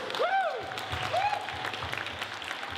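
Audience applause at a 2015 startup pitch showcase event: a steady, dense wash of clapping across the room, with a couple of bright whistle-like tones rising over it near the start.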